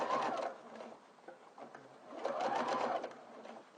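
A sewing machine runs in steady bursts, stitching a hip pocket lining close to the seam line; the motor whirs and needle chatters nearby, slowing briefly in the middle before speeding up again.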